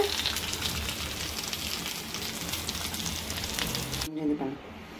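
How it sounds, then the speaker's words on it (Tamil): Fish fries in a pan with a steady, dense sizzle that runs close and continuous, then drops away abruptly near the end, leaving a quieter tail. "நம்மளோட ஃபிஷ் ஃப்ரையும் பார்த்தீங்க அப்படின்னா ரெடி ஆகிட்டு இருக்கு"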